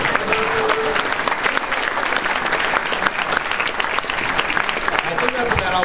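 Convention audience at PAX 2009 breaking into applause, a dense continuous clatter of many hands clapping at close range, steady and loud throughout.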